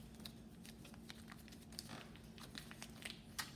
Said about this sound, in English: and like crumple the dollar bill around it?